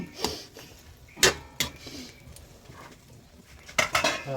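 Utensil clinking against a cooking pot while chicken afritada stew is stirred, several scattered metallic knocks over a quiet, soft background with no talk.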